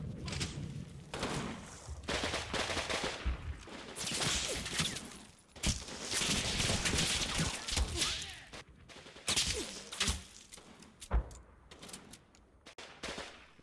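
Video-game gunfire from a WWII Normandy battle in Combat Mission: dense bursts of rifle and machine-gun fire with heavy thumps and cracks, irregular and overlapping throughout, varying between near and more distant.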